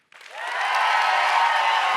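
Applause from a science slam audience at Berlin Science Week bursts in after a brief silence and swells quickly into a full, sustained wash of clapping that holds steady and loud to the end.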